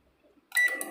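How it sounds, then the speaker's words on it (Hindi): An LG microwave oven being repaired starts running with a loud, steady high-pitched whistle over its hum, coming in suddenly after near silence and staying close and strong. "ये एलजी का माइक्रोवेव है। इसके अंदर एक बहुत ज़बरदस्त सीटी की आवाज़ आ रही है।"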